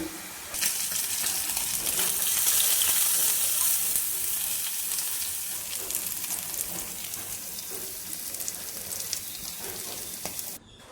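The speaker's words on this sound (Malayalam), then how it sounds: "prawns simple fry" Prawns frying in a pan, a bright crackling sizzle with scattered pops and spits that swells early and then eases slightly, close and continuous until it cuts off near the end.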